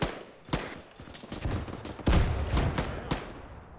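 Rapid, irregular gunfire in a military video game, with repeated close shots and bursts overlapping for several seconds.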